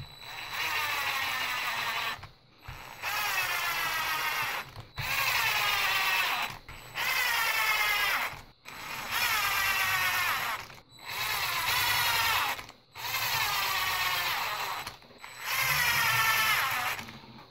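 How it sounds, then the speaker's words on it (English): A small power screwdriver drives 10mm screws into a Traxxas TRX Sport RC car, whirring in about seven even bursts of roughly two seconds each with brief gaps between, loud and close. "And we need to put some 10mm screws in."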